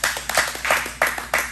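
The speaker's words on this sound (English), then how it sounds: "I'm still clapping." One or two people clap by hand in an uneven rhythm, with about half a dozen sharp, close claps in quick succession. The sound is dry and near, as if in a small room.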